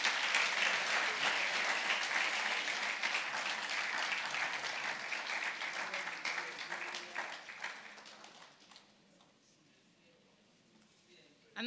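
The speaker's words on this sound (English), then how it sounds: "Another round of applause for Dr. Mukhtar Adam for that brilliant expose on the Zenith Bank financial performance" An audience at a capital markets event gives a round of applause for Dr. Mukhtar Adam, a full crowd of clapping that holds steady for several seconds, then thins out and fades to near quiet.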